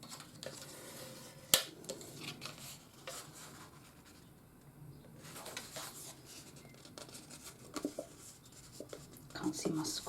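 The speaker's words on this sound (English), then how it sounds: "So we need to score all our lines first." A scoring tool is drawn along fold lines on double-sided card paper for a tiered pillar card, making repeated quiet, close scraping strokes with one sharp tap near the start.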